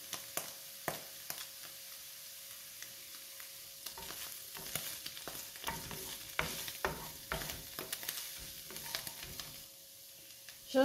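Butternut squash, mushrooms and pressed garlic fry in a pan with a low continuous sizzle, broken by frequent sharp clicks and scrapes of stirring, close and fairly quiet.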